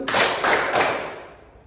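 A class of students clapping together in unison, about three sharp group claps in quick succession, with the last ringing out and fading in a reverberant classroom.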